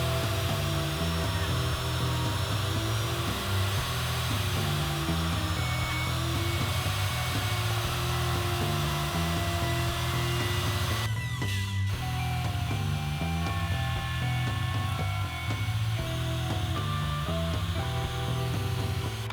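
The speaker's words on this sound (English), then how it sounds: "to make all the mortises into posts, I'm going to use my plunge router" A plunge router cuts mortises into hardwood bed posts for a panel bed, giving a steady, loud whining roar that runs continuously with a brief dip partway through.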